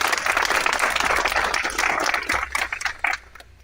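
A crowd claps steadily at an Ambazonia Independence Day celebration, a dense continuous patter that thins into a few scattered final claps before stopping.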